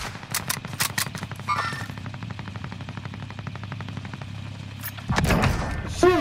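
Gunfire in a video game shootout, sharp single shots at first, then a long rapid machine-gun burst in steady rhythm, ending with a heavier blast and more loud shots near the close.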